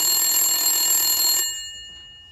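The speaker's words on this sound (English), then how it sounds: "phone's ringing." A loud electronic phone ring sounds for about a second and a half, then cuts off and rings out briefly.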